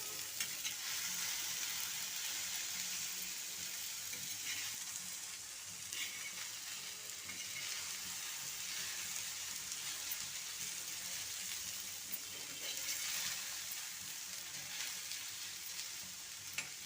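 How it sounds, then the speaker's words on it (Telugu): Okra (bhindi) frying in oil in a pan on a low flame, giving a steady, dense sizzle while it is stirred back and forth, with no one talking. "చిన్న మంట మీద పెట్టుకొని అటు ఇటు కదుపుతూ ఉండాలి. ఇలా కలుపుతూ ఉండాలి, లేకుంటే మాడిపోతాయి,"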